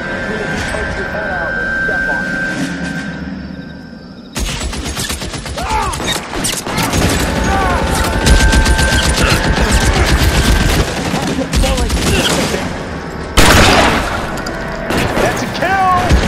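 Dense gunfire fills the action video game L.A. Noire, with rapid shots and bursts cracking continuously over a loud game soundscape, broken by brief tonal game sounds.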